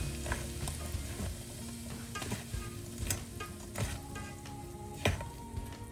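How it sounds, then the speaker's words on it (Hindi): Pickle mixture with hot oil poured in is stirred in a pot: a steady sizzle broken by repeated spoon scrapes and clinks at an irregular rhythm, close by and without talk. "बढ़िया से इसको एक मिक्स देती हूँ"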